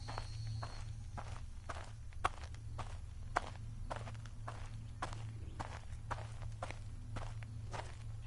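Footsteps in the horror game Incantation, modeled on Fatal Frame 2, form a steady, even walking rhythm of crisp thuds over a low hum that persists throughout.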